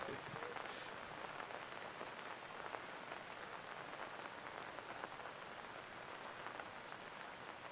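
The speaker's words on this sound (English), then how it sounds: "It might mean you want to get out of the rain." Steady rain falls across a golf course during a girls' high school golf championship, a continuous, even hiss of drops on the surface with no break and no one speaking.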